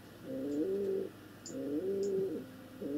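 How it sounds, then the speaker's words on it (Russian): Pigeons coo in repeated low, rolling phrases, about three calls close by, with faint chirps between them and no talk. "Ну ладно, Сергей, я сейчас займусь голубями."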